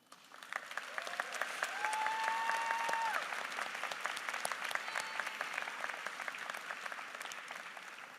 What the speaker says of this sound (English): will the graduates perform a choral response in applause for our teachers?